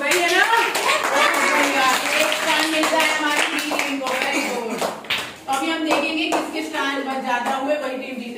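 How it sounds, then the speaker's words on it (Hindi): Children clapping their hands during a classroom counting and addition activity, rhythmic claps and finger snaps mixed with continuous chatter and an adult's voice speaking over them. "वो हमारी तालियां देखना"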